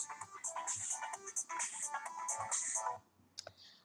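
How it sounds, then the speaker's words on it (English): A phone ringtone plays a bright, bubbly electronic melody for about three seconds, then breaks off, leaving only faint clicks. "my phone keeps ringing"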